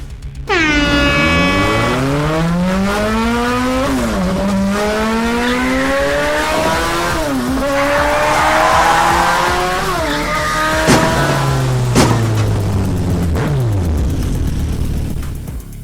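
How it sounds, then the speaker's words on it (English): Race cars pull away from the starting line at a racing tournament. Several loud engine notes climb and overlap continuously, with brief tire squeals and horn-like tones, and no voices. "made a confident acceleration at the start and broke out in front with a big advantage"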